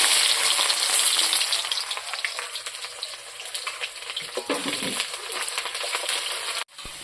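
Chopped onion and black cumin fry in hot oil, a loud, continuous sizzling crackle close by that eases slightly midway with some stirring scrapes, then cuts off abruptly near the end.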